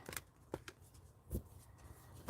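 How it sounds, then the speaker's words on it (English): Tarot cards shuffled by hand in a quiet room, a few soft papery riffles and flicks spaced irregularly, close and faint with no talking. "while I shuffle through my cards"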